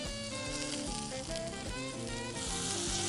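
Lobster tails sizzling in garlic butter on the beach, a steady loud crackling hiss that runs throughout with no voices.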